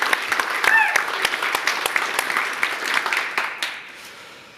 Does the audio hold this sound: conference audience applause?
yes